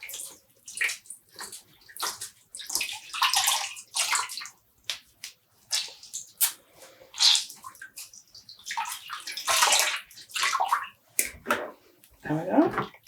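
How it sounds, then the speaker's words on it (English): Water sloshing and dripping in bursts as freshly dyed yarn is pushed down and squeezed out in a basin at home, the splashy sounds recurring close up with quiet gaps between them. "And squeezing out the water."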